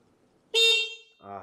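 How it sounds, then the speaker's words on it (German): An electric chopper's horn sounds once, a short loud close toot, followed by someone speaking. "Das ist Hupe."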